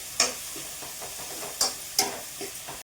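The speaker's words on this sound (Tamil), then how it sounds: "நல்லா வந்து எல்லாம் தக்காளி மசிகிற அளவுக்கு நல்லா வணங்கிட்டு" Tomato masala sautés and sizzles in oil in a pan, a soft steady fry broken by a few sharp scraping stirs of a spoon, close and without talk.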